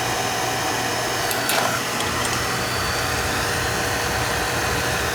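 An oil-fired boiler burner starts up with a steady, roaring combustion rumble and fan hum, broadband and continuous, with a brief clank partway through; no voices.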